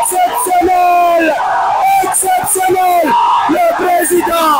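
A large, dense crowd chants and cheers loudly around Ousmane Sonko, with rhythmic shouted voices rising and falling close by.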